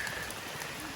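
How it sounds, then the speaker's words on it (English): Steady rain falling outdoors during a heavy Pacific Northwest storm, a dense, even hiss of drops spread across the whole moment with no pauses, close and continuous, with no talking over it. "It is raining. This is rain."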